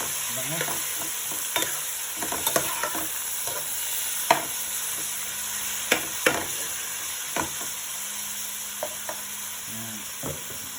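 Meat frying for dinuguan, a steady loud sizzle with scattered clinks and scrapes of a utensil stirring the pan over several seconds.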